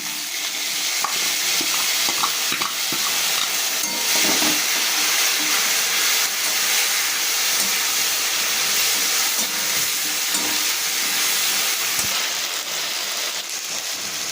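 Ginger with green and dry chili paste frying alongside a fish head in a pan, producing a continuous loud sizzle and hiss with faint stirring scrapes throughout.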